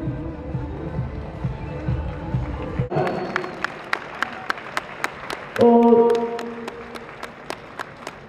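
Audience applauding the women's team at an event, a crowd clapping in a steady, hall-like patter with rhythmic sharp claps, briefly overlapped by a voice and a louder cheering swell partway through.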